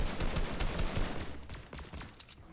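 Automatic gunfire sprays in rapid, dense bursts in a shooter video game, loud and continuous for the first second and a half, then thinning into scattered, quieter shots.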